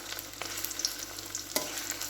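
Chicken pieces fry in hot oil for chilli chicken, a soft, steady sizzle close by with a few faint clinks and stirring scrapes, no talk.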